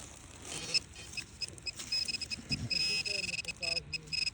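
A metal detector gives repeated high electronic beeps in short bursts over mineralized ground, growing more frequent toward the end, over outdoor rustling and faint background noise.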